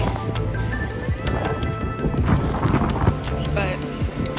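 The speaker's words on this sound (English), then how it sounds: "And it's super windy" Strong wind buffets the microphone outdoors in the Simpson Bay area of Sint Maarten, a rough, gusty rumble that runs throughout.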